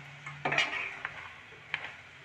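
A metal lid is lifted off a pot of carrot halwa on a gas stove, giving a few sharp clanks and scrapes close by, followed by quieter clinks over faint background hiss.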